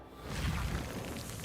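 Casting the Reparo repair spell in Hogwarts Legacy gives a soft, airy magical whoosh that swells and holds steady for about a second and a half, rich in low rumble and close up.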